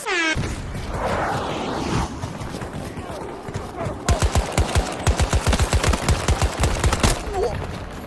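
Rapid bursts of automatic gunfire from the VCAR rifle in a video game, a fast rhythmic string of loud shots in the second half, with game sounds and a player's voice beforehand.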